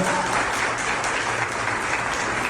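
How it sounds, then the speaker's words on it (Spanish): Audience applause for engineer Michel, a mentor from Colombia, during an online program session on electric vehicle climate systems; dense, steady clapping holds at an even level throughout with no voices. "Le damos un aplauso."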